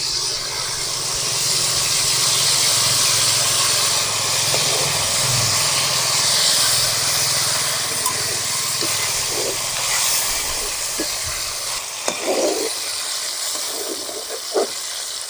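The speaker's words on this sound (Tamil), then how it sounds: "நல்லா புளி தண்ணி பச்சை வாசம் போகிற தண்ணி வேக வேணும்." Tamarind water simmers in oil in a pan for a drumstick pickle, giving a continuous hissing sizzle with a few brief pops and bubbles near the end.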